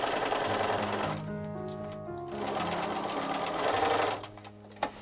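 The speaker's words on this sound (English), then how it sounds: "I could then sew the rest of the seam as usual" A sewing machine stitches the seam of Bronze Age style breeches, a steady close mechanical whirring run that continues for several seconds before slowing and stopping near the end.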